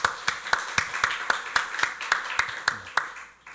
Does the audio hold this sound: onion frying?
no